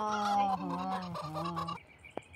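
A chicken cackles and clucks in a loud, close run of harmonic squawks, breaking off before a brief sharp click at the end.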